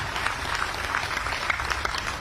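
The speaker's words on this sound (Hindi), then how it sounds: "मैं चाहूंगा इस बात के लिए शिवराज जी को तालियों से हम सब लोगों को स्वागत करना चाहिए।" Crowd applause at the opening of the Tansen music festival in Gwalior, welcoming Shivraj, a thick, even wash of many hands clapping continuously, fairly loud and close, with no speech over it.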